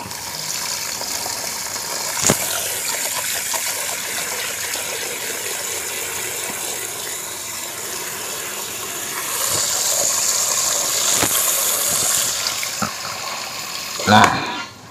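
Water runs steadily into an aglaonema plant pot to soak it up to the soil surface, a continuous hissing pour with a brighter gush near the end and a short clatter at the finish. A person speaks over it.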